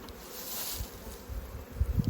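Honey bees buzz around the roof of a beehive, a close, steady hum with a few louder thumps and rustles toward the end.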